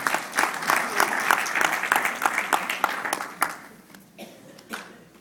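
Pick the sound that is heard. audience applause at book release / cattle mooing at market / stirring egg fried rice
audience applause at book release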